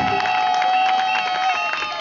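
A crowd of guests at a wedding where one man marries four women on the same day claps and cheers loudly, the applause mixing with shouts and steady tonal music in the background.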